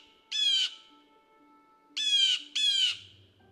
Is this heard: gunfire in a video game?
no